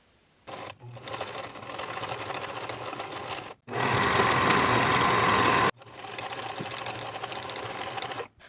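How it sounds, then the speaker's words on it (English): A sewing machine topstitches a jeans seam in three close, steady whirring runs, with brief pauses between them and a louder middle burst. "I'm going to be pressing my seam up toward the yoke and top stitching in place."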